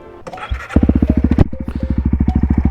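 A dirt bike motorcycle revs up close, its engine settling into a rapid, pulsing rhythm as it rides off-road.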